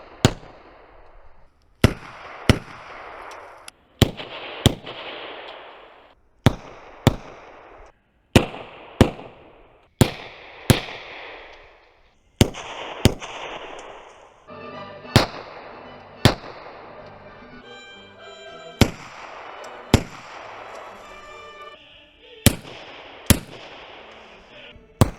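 Gunshots through hearing-protection earmuffs on a range, about twenty sharp, loud cracks in uneven bursts and singles, with music playing at conversational volume underneath between shots.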